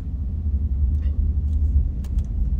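A pickup truck pulls away on a country road with a steady low engine rumble that holds near and fairly loud throughout, with a few faint clicks and no talk.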